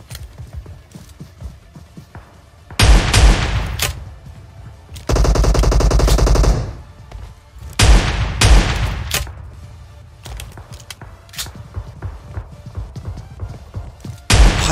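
Loud S686 shotgun blasts in PUBG Mobile, several heavy booming shots in separate bursts spread through the stretch, with quieter game ambience between them and no talk.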